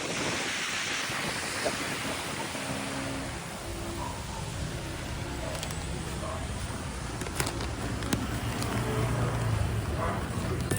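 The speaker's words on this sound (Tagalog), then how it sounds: "Lakas ng hangin" Strong wind roars and buffets the microphone nonstop, with rushing water and a boat engine rumbling underneath, out on the water.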